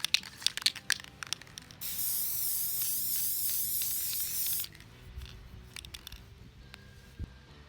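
A can of acrylic spray hisses in one steady burst of about three seconds as a light mist goes onto a prosthetic mold, between quiet clicks and handling sounds.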